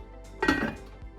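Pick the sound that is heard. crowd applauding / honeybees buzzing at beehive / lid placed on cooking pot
lid placed on cooking pot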